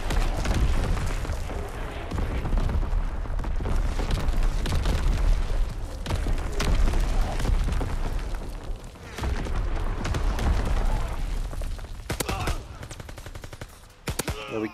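Incoming enemy artillery and gunfire in the World War II shooter Call of Duty WWII, with loud dense bursts of shots and booming impacts going on for the whole stretch and sharp hits near the end.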